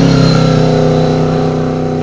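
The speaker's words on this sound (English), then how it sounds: "That bicycle is almost going as fast as the motorcycle is." A motorcycle engine runs close by during a bicycle time trial road race, a loud steady mid-pitched drone with a slight pulsing rhythm that eases a little in level over two seconds.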